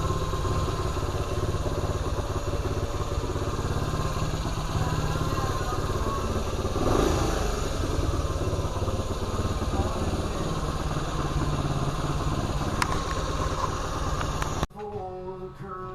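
A 1975 Honda CT90 engine idles steadily at close range for most of the clip, a low continuous rumble with light clatter, cutting off abruptly near the end.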